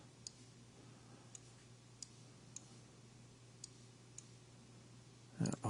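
Computer mouse clicks in a quiet room, with six or seven faint, sharp single clicks at irregular intervals over a low hum, and a louder handling rustle at the end.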